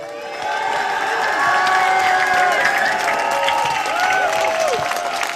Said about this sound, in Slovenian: še prosim za en aplavz